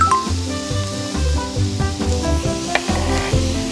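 Anchovies stir-fried dry in a pan, a moderate sizzle broken by rhythmic scraping and tossing strokes of a spatula, fairly close, with faint music underneath and no talking.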